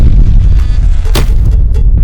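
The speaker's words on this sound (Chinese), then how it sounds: "魔化店主身后的大地被轰出了一个巨大的空洞" A heavy explosive punch blast in a fantasy audio drama, a loud, deep booming rumble with a sharp crack near the middle, dense and close for about two seconds.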